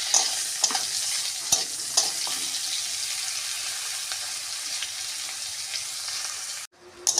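Sliced bitter gourd with a little turmeric sizzles steadily in hot oil while a spatula scrapes and stirs it in the pan, the frying continuous and close before cutting off abruptly near the end.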